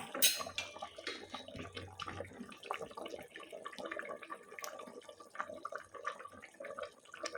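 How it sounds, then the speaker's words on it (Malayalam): Quiet bubbling and popping of fish curry simmering in a pot on the stove, soft irregular blips with an occasional light clink of cookware. "മീൻ കറി ഇവിടെ അടിപൊളിയായിട്ട് തിളച്ച് വരുന്നുണ്ട്"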